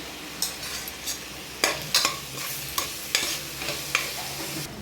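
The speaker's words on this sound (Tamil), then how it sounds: "அதையும் வெங்காயத்து கூட சேர்த்து நல்லா வதக்கணும்" Onions and tomatoes with turmeric sizzling and frying in a pan for mutton fry, with intermittent stirring scrapes and clinks, steady hiss underneath, no talking.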